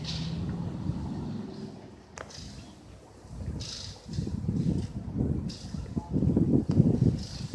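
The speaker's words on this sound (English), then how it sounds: "Please excuse the wind." Gusts of wind rumble and buffet the microphone in uneven bursts outdoors at a Toyota Prius dealership lot, moderately loud, with faint background noise in between.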